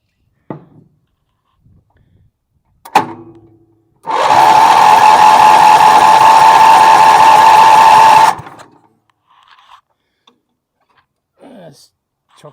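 A Wheel Horse 308-8 garden tractor engine cranks in one sustained burst of about four seconds, a rapid buzzing churn that never catches, surrounded by a few clanks and faint handling noises.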